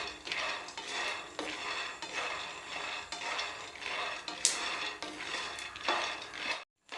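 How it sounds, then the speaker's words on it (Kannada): Peanuts being dry-roasted and stirred in a pan for a sweet stuffed flatbread, a steady rhythmic scraping and rattling of nuts against metal with repeated spoon strokes, close and alone, ending in a brief silence. "ಸ್ವಲ್ಪನ ಶೇಂಗಾ ಹಾಕ್ಕೊಂಡು ಹುರ್ಕೊಳ್ಳೋಣ ಚೆನ್ನಾಗಿ."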